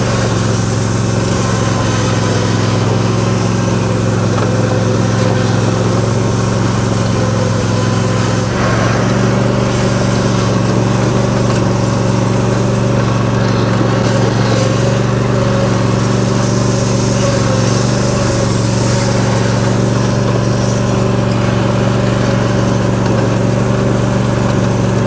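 A zero turn mower pulling a chain harrow over a gravel driveway, its engine droning loud and steady at close range for the whole stretch, with no voices.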